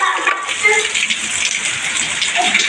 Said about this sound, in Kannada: ಸಿಕ್ಕಾಪಟ್ಟೆ ಮಳೆ ನೋಡಿ